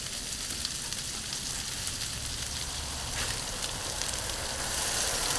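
Smash burgers sizzle on a griddle as they are flipped, a dense, continuous hiss that holds steady and swells slightly toward the end, close and loud, with no voices.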